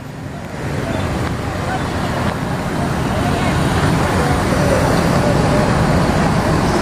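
Steady roar of traffic and idling buses at Pondok Pinang Lebak Bulus bus terminal, a dense continuous rumble that stays loud from start to finish with no clear separate events.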